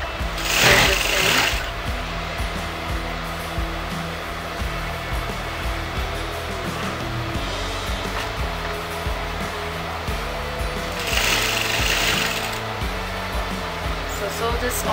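A sewing machine runs in long steady bursts while stitching the border of a circle skirt lehenga, its motor whirring close and loud, with a brief louder buzz near the start and again near the end, and a person talking at times.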